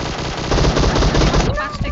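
Loud, rapid automatic gunfire from a light machine gun in PUBG Mobile rattles in a dense, continuous burst lasting about two seconds, close and harsh, ending with a brief tail.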